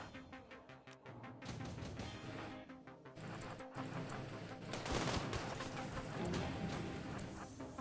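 Video game gunfire with sniper shots cracks in a dense, continuous barrage of loud reports and rapid bursts, sustained throughout with no talking.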